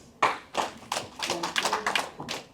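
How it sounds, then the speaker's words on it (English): An audience at an energizer break during an event on artisanal gold mining concerns claps in unison three times, then keeps up a looser patter of handclaps and taps. The sound is close and distinct, with no talk over it. "Let's do 3 claps."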